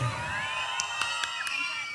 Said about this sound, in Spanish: Una bulla por Elizabeth.